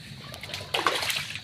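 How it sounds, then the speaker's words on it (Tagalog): Fast-flowing water at high tide rushes and splashes close by, a steady wash that swells into louder splattering bursts. "Malabilis na yung tubig. High tide na."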